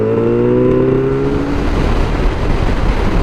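Car driving past on a road, its engine tone sliding downward as it goes by, loud and close, then fading into rumbling road noise.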